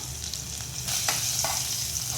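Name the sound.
cinnamon, cloves and star anise sizzling in tempering oil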